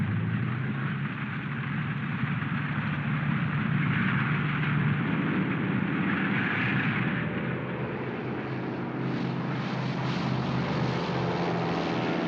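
Several WWII aircraft in flight over the Pacific, including Liberator bombers, Lightning fighters and Mitchell attack planes, produce a steady, loud, broadband propeller-engine roar that continues unbroken throughout, with a dense low rumble and no voices.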